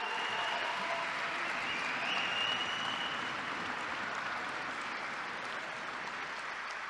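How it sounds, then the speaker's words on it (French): Dense, steady audience applause fills a presentation of the Navya self-driving autonomous electric taxi cab, loud and continuous throughout, with no voices rising above it. "Merci d'applaudir très très fort Christophe Sapé et ses équipes."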